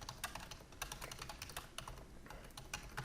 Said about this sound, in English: So I got to type in PowerShell